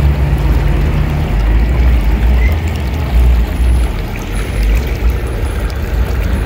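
Water flows at a rural ranch in a loud, continuous rushing wash with a deep low rumble, close and steady throughout, with no voices.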